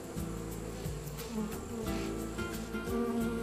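Honey bees humming inside a hive after a queen change, a steady close drone with a low hum and faint buzzing layers, continuous and alone throughout.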